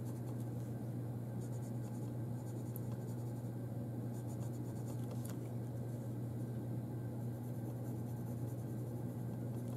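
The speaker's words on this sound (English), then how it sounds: "as I'm using the red pencil, I'm also going to have the white pencil, because you can blend the two pencils here on the paper" Red and white pencils scratch and rub softly on paper while drawing and blending. The strokes make a faint, continuous scraping over a low steady hum.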